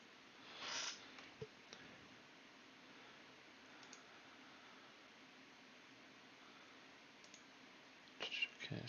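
Game controller or keyboard buttons click faintly and sparsely during gameplay, a few soft isolated taps and a short burst near the end over a quiet hiss.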